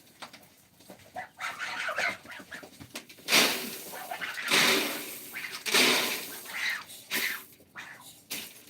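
Hens cluck and squawk in bursts, some close and loud, with a person's voice occasionally mixed in among the flock.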